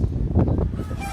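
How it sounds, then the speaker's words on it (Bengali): Ducks quack in a short, loud cluster of honking calls from a rooftop garden, with a few overlapping notes close by. "আর এই হাঁসগুলো দেখতেছেন"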